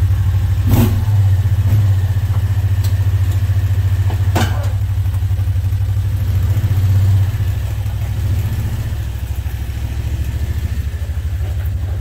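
A car engine fires up in a garage as a project car starts: a loud, steady low engine drone that runs unevenly, with a couple of sharp clunks early on, and eases slightly toward the end.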